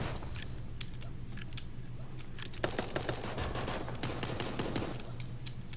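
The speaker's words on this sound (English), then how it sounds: "AK shots going out now." Rapid AK rifle bursts ring out in the Super Animal Royale video game during a 1v1 tournament match, dense crackling automatic fire in several stretches with sharper shots near the middle.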